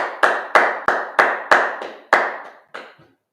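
A history class claps in unison: seven sharp, evenly spaced hand claps, loud and close, with a faint eighth before silence, no talking.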